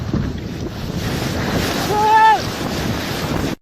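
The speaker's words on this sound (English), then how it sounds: "2017, Greenland was hit with a tsunami." Rushing water and wind roar steadily from tsunami waves in Greenland, with heavy buffeting on the microphone and a brief tonal voice-like call rising and falling midway.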